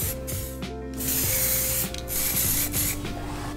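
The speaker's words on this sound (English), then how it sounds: "I thoroughly degrease the parts and start applying primer." Primer being sprayed onto degreased rear axle parts in short aerosol bursts, a steady close hiss that pauses briefly and resumes several times, with a low hum running underneath.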